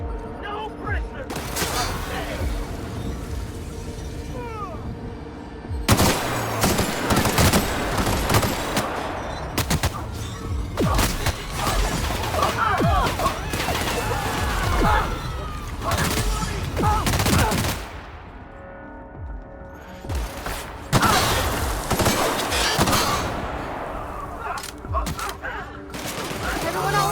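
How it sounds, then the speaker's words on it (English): Gunfire in The Outer Worlds: repeated loud bursts of automatic and single shots come in waves for most of the stretch, with short lulls, while voices shout and talk over the firefight. "Open fire! No prisoners!"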